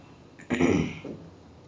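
A single throat-clearing cough from a woman with a sore throat after drinking cold fridge water, one short harsh burst, close and moderately loud, then quiet.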